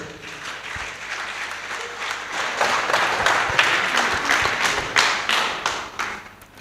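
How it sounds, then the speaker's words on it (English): Audience applause at a community radio studio handover event as a poet is called to the stage, building from light clapping into steady, fuller clapping with a few louder individual claps near the end. "Let us give him a round of applause."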